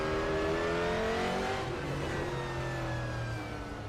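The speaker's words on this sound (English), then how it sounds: "How does RaceRoom capture the sound of a Ford better than iRacing?" Ford race car engine revving in the RaceRoom racing game, a sustained engine note with shifting tonal harmonics that fades slightly toward the end, with no voices.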